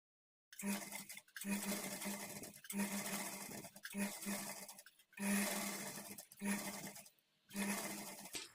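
A sewing machine stitches piping onto a blouse using a normal presser foot without cord thread. It runs in repeated close whirring bursts of about a second each, separated by brief pauses.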